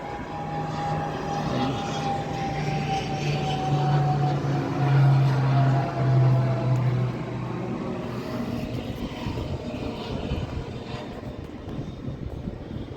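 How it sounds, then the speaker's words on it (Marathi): An airplane passes overhead near a seaside fort, a steady engine drone holding at a fairly loud level for the whole stretch with no voices. "आपण आता या ठिकाणी पाहू शकतो वरच्या बाजूचं विमान"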